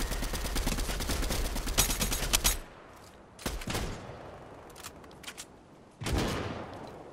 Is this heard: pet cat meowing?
no